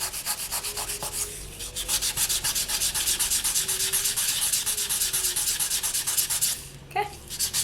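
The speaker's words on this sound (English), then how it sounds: "I'll go through each of the grits, sand away the excess to reveal the beautiful pattern underneath." Polymer clay is wet sanded by hand on sandpaper, making close, rhythmic rasping strokes back and forth at an even pace, briefly paused by a small knock and a shift near the end, with no talking.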